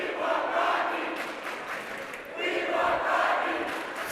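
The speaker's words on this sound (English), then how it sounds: "Love of This Is Our House cheer" At a high school boys basketball tournament game against Steward, a student crowd chants the This Is Our House cheer. The rhythmic group voices swell in two waves and sound somewhat distant and reverberant in the gym.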